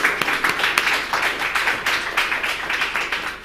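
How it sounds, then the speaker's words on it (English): Audience applauding panelists at a conference on credit rating solutions for Africa's financial needs, a steady dense patter of many hands clapping throughout, fairly close and even in level. "they all deserve a round of applause if you can"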